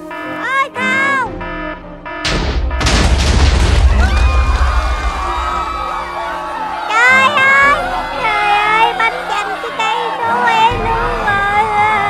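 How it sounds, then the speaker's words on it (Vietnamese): A TNT block in Minecraft, set off by fire, detonates in a heavy booming blast with rumbling debris, surrounded by excited shouting voices and squeaky cartoonish game sounds. "Lửa bắt cái TNT nó sẽ Sẽ nổ mất"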